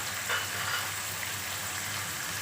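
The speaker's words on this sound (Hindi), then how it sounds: "ऑयल के अंदर हमने डाल देनी है जो हमारे पास सब्जियां थी, गाजर, मटर और आलू" Carrots, peas and potatoes frying in oil give off a soft, even sizzle that holds steady throughout, fairly quiet and with no voices.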